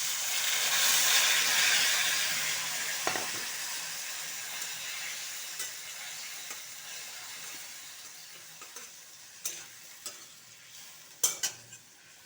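Spice paste of ginger, cumin, coriander and turmeric frying in a pan, a steady close hiss and sizzle that slowly settles, broken by occasional stirring clicks and scrapes.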